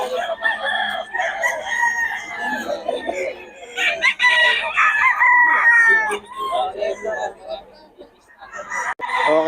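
A Sweater Gilmore gamecock rooster crows repeatedly in Bocaue before dawn, its calls loud and near, layered over other roosters and clucking fowl, with people talking in the background.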